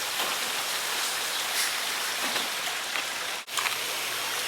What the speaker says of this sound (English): right now the mist is hitting the part of the frame on the cage, so it's raining a lot